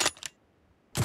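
Gun reloading in the mobile battle royale game PUBG Mobile: two quick metallic clicks right up close, a short pause, then a heavier clack as the weapon locks into place.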